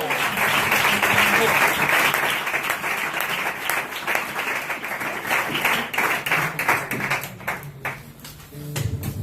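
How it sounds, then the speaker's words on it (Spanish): A church congregation claps together for several seconds in a continuous, dense burst that gradually thins and tapers toward the end, with scattered claps lingering and faint voices underneath. "¿Quieres darle un aplauso al Señor?"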